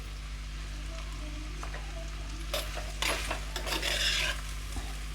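Onions with rock salt are stirred in a pan, giving soft scraping and rustling strokes that grow busier midway over a low steady hum, faint and close, with no voices.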